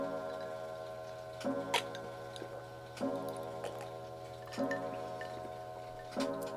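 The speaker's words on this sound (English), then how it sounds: "I'll wait for my clock to finish chiming 9 p.m." A clock ticks steadily indoors, each tick paired with a soft, resonant tone that repeats about every 1.5 seconds. The sound is quiet and rhythmic over a low, constant hum.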